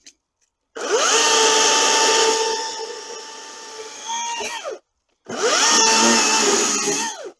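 An electric CS1614E chainsaw with a 40 cm bar cuts through garden brambles, its motor whining loudly in two long bursts with a brief drop between, pitch sagging under load and recovering, close up.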